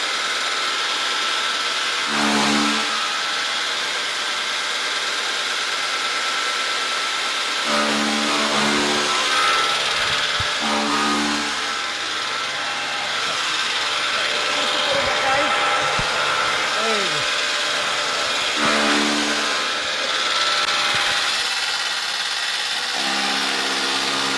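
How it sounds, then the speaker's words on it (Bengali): Grass and straw cutting machine for cattle and goat fodder running with a steady loud motor drone, rising into repeated chopping surges as material is fed in. "এটাতে কত দ্রুত ঘাস এবং খড় কিন্তু কাটা হয়"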